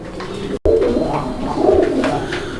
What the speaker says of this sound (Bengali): এখানে এক জোড়া কালারিং রাজগোল্লা কবুতর ব্ল্যাক কালারের মধ্যে